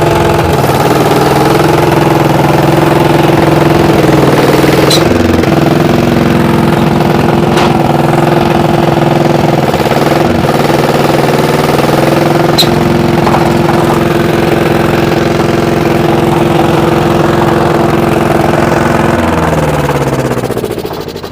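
A heavy 1953-model tank engine standing in a forest runs loudly and steadily, its rough mechanical drone shifting in pitch as it is revved, with occasional clanks.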